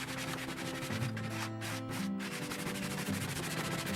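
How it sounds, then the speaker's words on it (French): Leftover paint being sanded off during a renovation, heard as a loud, close, continuous abrasive rubbing with brief gaps in the middle. "poncer, hein, complètement pour enlever le surplus de peinture"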